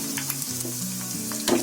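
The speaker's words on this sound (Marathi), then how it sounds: "असा कलर आहे ना जरा ऑरेंज येईपर्यंत फ्राय करायचा आहे चांगला" Chicken pieces for street-style Schezwan noodles fry in a hot pan until turning orange, giving a close, continuous sizzle with stirring scrapes and a low steady hum underneath.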